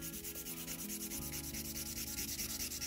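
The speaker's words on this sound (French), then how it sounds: "Donc je mets ma lime plate, un peu inclinée." A flat nail file scraping back and forth across a gel nail, close and quiet, in a steady rhythm of quick rasping strokes with no talking.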